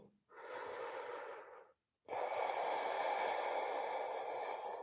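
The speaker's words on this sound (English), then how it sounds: "Breathing." Deep yoga breathing during a floor pose: one long audible inhale, a brief pause, then a longer, fuller exhale, close and clear with no talking.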